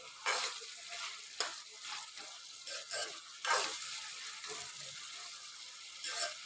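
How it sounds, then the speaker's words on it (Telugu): Mixed vegetables, beans, potato and carrot with fenugreek, fry in oil with a soft, crackling sizzle, punctuated by repeated scraping stirs at close range, fairly quiet with no talking. "ఇది ఆయిల్లో అయితే ఇట్లా ఫ్రై చేసుకోవాలి కొంచెం"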